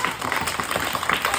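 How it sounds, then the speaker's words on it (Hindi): Children clapping their hands together in a classroom, a brief burst of scattered, overlapping claps heard close by. "ताली बजा सकते हो।"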